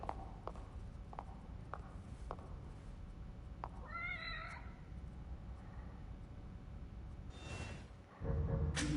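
A cat meows in The Evil Within, a short run of tonal, wavering cries in the middle, set over a dull ambient hum with scattered footstep-like knocks.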